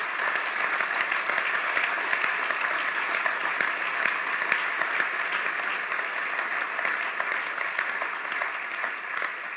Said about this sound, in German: Ich glaube, das ist ein Applaus wert, meine Damen und Herren